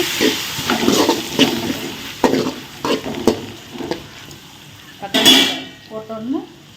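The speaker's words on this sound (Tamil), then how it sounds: "நம்ம இந்த மாதிரி அப்பப்போ கிளறி கிளறி விடும்போது தான் வெங்காயம் வந்து சீக்கிரமாக வதங்கிடும்" Onions being stirred as they fry in a pan for a sardine curry: repeated scraping strokes of the spoon against the pan over a steady sizzle, close and fairly loud, with no talking.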